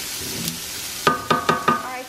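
Food sizzles in a cast iron skillet with a steady hiss. Four sharp utensil knocks against the pan come in quick succession partway through.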